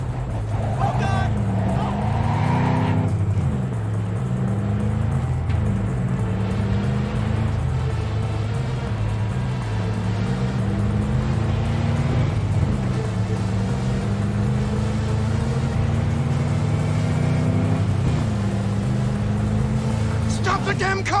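A car in the Cyberpunk 2077 video game drives with a loud, close engine hum that rises and drops repeatedly through gear shifts, and voices shout over it.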